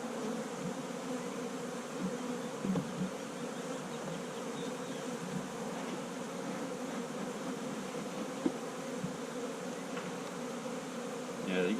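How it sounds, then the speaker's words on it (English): Honey bees hum in a dense, steady drone from an opened hive during a queen cage removal, the buzzing continuous and close, with a few faint handling knocks. "you can tell there's a lot more bees in this one than that last one"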